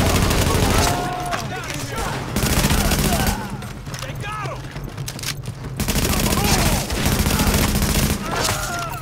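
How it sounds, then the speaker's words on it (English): Gunfire in a shooter game set during an escort mission with a rooftop gunner, with rapid bursts of automatic fire and repeated shots close by, dense and continuous, while a voice speaks over the shooting. "The escort party's taking heavy fire from the roof."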